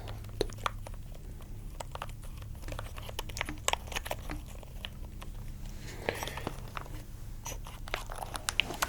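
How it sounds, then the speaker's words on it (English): Rapid clicky keystrokes from a MagForce 68 mechanical keyboard, irregular and close, with a steady low hum underneath and no talking. "Just having a little look at the keyboard just for the sound."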